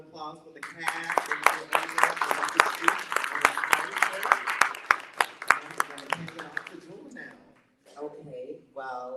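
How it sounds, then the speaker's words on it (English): A theater audience applauds the cast at the closing show of a tour, rapid clapping with scattered cheers and voices mixed in, fading out near the end as people talk. "Have another round of applause for the cast."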